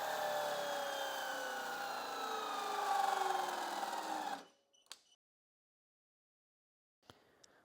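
Cordless mini chainsaw powered by a Makita 5 Ah battery, running steadily at high speed for about four seconds before it winds down, then silence broken by a couple of faint clicks and brief handling noise.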